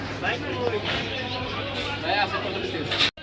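Afsan grizzle pigeons at a pigeon market, with soft repeated cooing amid a busy crowd hubbub and nearby chatter.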